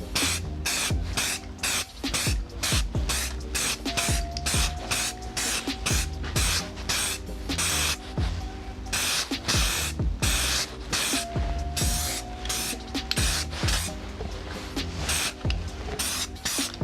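A spray can lays a primer coat onto an OMP strut brace for a modified Mk6 Ford Fiesta, in rapid short hissing bursts close by, almost continuous with brief gaps and a faint rattling tick.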